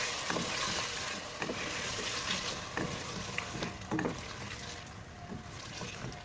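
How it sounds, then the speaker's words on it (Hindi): Frozen meat and spice mix frying with whisked yogurt in a pan, a steady close sizzle with intermittent scraping stir strokes throughout. "अब इसको दही के साथ ही फ्राई करेंगे"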